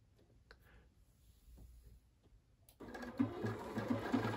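A Bernina 535 sewing machine runs an applique stitch, its motor starting up partway through into a steady, fairly loud whirring hum with a faint rhythmic needle pulse, following a few quiet handling clicks.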